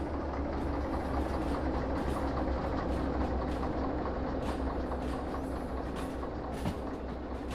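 A train rolls along steadily in the railway simulator Derail Valley, a continuous low rumble with faint rail clatter that holds even and fairly loud throughout.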